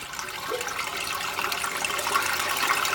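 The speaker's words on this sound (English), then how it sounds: "You can hear the water" Water rushes through a freshly unclogged sewer line after snaking, a steady broadband gush that stays fairly loud and continuous throughout, with no talking.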